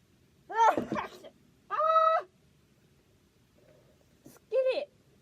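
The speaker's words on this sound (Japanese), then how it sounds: "あ、やばい、くしゃみ出そう。" A young Japanese woman suffering from pollen allergy lets out one sharp sneeze near the start, followed by a few short voiced sounds in a quiet room.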